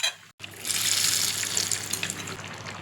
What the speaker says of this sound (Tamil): இப்போ இந்த தாளிப்பை நான் கிரேவியோடு சேர்த்துக்கிறேன்.